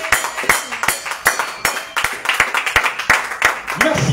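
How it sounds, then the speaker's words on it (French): A church congregation claps loudly together, a dense run of sharp hand claps in quick rhythm lasting several seconds, with some voices mixed in under the applause. "Non, acclame plus fort que cela."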